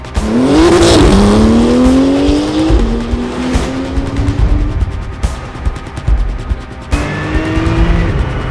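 A Porsche sports car on fresh Michelin tires laps a race track, its engine climbing and shifting through loud revs with tire squeal, then dropping back before another sharp upshift near the end.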